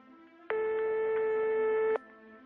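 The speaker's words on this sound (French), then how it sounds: "Il y a eu 2 sonneries avant que ça ne décroche." A single steady electronic telephone ring tone sounds for about a second and a half in a quiet room, then stops abruptly.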